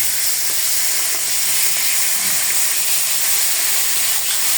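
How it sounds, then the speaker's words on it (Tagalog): Fish frying in a pan, a steady loud sizzle and hiss without break, close up, with no talking. "Pagprito na po ta guys ang isda guys oh."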